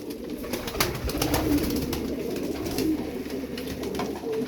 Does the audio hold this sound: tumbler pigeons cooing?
yes